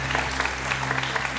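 Brief burst of dense audience applause for a contestant at a Quran recitation competition, steady and even under a low hum.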